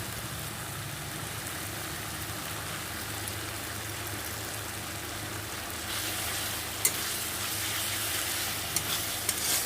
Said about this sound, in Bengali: ধনে পাতাটা দিয়ে এক মিনিট নাড়াচাড়া করে আমি নামিয়ে দেব